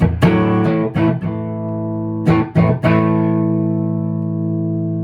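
An electric guitar plays through a Marshall JTM 45 amp with a Sun Face fuzz pedal, giving thick, distorted chords. Two clusters of choppy strums ring out, then a last chord is left to sustain and slowly fade.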